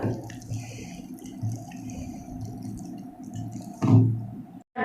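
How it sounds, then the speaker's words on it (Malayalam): Water trickles and splashes into a bowl of chicken pakkavada batter in an uneven stream, with a louder gush near the end and soft handling noises. "വളരെ ശ്രദ്ധിച്ച് മാത്രം വെള്ളം ഒഴിച്ചു കൊടുക്കുക"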